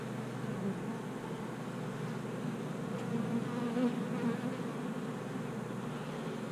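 A honeybee colony hums with a dense, steady buzz of many bees close by during a hive inspection, a continuous drone with no talking.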